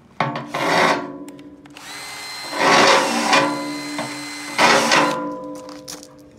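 A countersink bit spins in holes drilled with a step drill in a loader toothbar, chamfering off their sharp edges: three loud, rasping, whirring bursts with short pauses between, close by and without speech.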